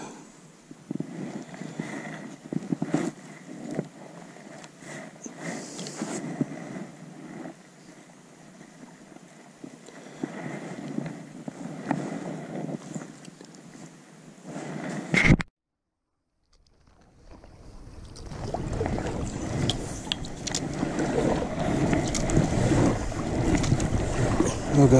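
Kayak paddling along a river bank, soft repeated paddle strokes and water swishes under steady wind noise, broken by a brief loud knock and a moment of silence before the water and wind return louder.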